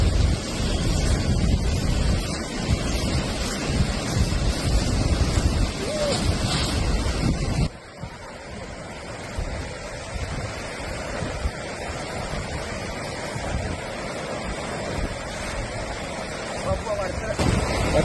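A river near a school ground rushes by in a steady roar of flowing water, loud and close at first, then slightly softer after a sudden shift, with wind buffeting the microphone throughout.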